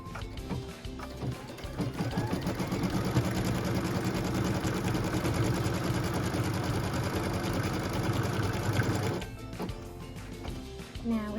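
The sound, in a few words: sewing machine stitching quilt block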